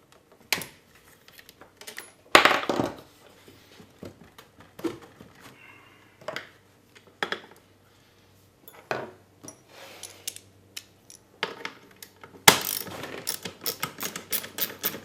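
Mechanical clicks, clanks and rattles come from a LiftMaster garage door opener's rail being taken off, scattered irregular metal knocks with a few louder bangs, close and without talk.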